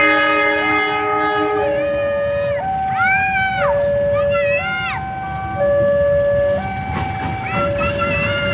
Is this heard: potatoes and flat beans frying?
no